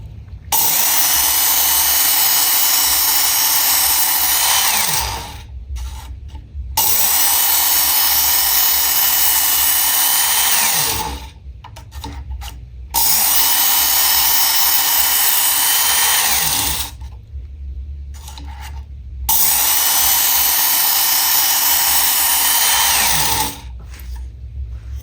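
A Work Sharp Ken Onion Edition knife sharpener grinding a knife blade in four long passes of loud, high whining belt grinding, separated by brief pauses where the motor winds down.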